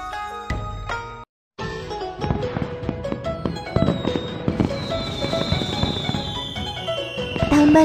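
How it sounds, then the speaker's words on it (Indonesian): Animated cartoon fireworks for a Chinese New Year celebration: a dense run of popping bursts and crackles over bright chiming music, with a brief silent gap near the start. "Ada banyak sekali kembang api."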